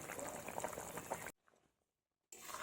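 A fish curry with papaya bubbles in a pot, a dense boiling burble close by that cuts out for about a second of near silence before resuming.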